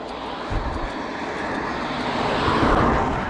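An electric drill drives a cleaned and oiled bicycle chain drivetrain in fifth gear on an e-bike, giving a loud, steady whirring roar that builds slightly and carries on without a break, with no voices.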